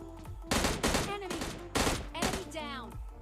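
M16 rifle fire in PUBG Mobile Lite: several close bursts of rapid shots in quick succession, loud and crackling, interleaved with game effects and a voice speaking in the gaps.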